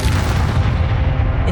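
A Glacius ice spell in Hogwarts Legacy bursts as a short, dense, booming blast with a crackling wash, loud and close.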